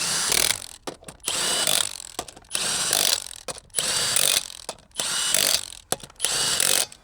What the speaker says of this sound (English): I like to go around one more time just so that I know I have an even torque on all the lug nuts.